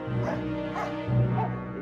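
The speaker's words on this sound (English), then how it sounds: "Is that your dog?" A dog barks a few quick yipping barks close by, with a short whimpering edge between them.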